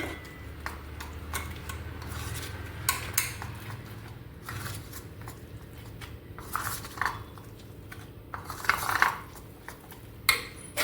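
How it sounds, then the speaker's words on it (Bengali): Utensil scraping and clinking against a bowl while batter for cucumber pakora is mixed with a little water and green chilli paste, irregular taps and stirring strokes at close range, with no talking. "অল্প জল দিয়ে দিয়ে এটা ব্যাটার তৈরি করব।"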